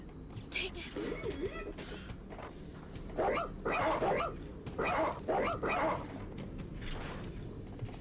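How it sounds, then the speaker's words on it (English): A robot dog companion barks in the video game ReCore, a handful of yelping, electronic-tinged barks in two close clusters over a constant game-sound background, with some voice-like sound mixed in. "You get your trusty robot dog."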